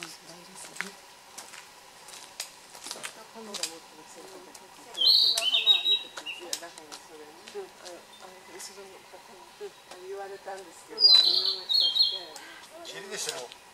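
A narcissus flycatcher (kibitaki) sings outdoors in two short, high, clear phrases, well apart, over steady background chatter of people talking and other faint bird chirps.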